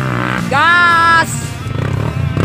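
Motorcycle revving hard at the start of a steep village hill climb during an Independence Day trail practice event in Aceh, a loud close engine note rising sharply, holding, then dropping back among crowd noise.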